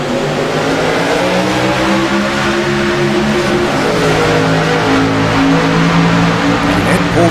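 Race cars accelerate together at a green flag start, a dense, loud roar of revving engines holding steadily throughout.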